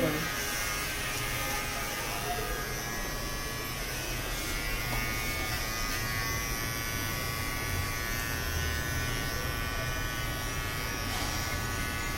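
Electric hair clipper buzzing steadily and close throughout, cutting a small child's hair at home, with adults speaking softly over the continuous hum.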